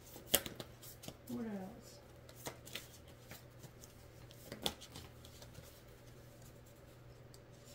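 Tarot cards being shuffled by hand, a few brief papery riffles and flutters with soft taps, mostly quiet and close, with a voice briefly speaking over them.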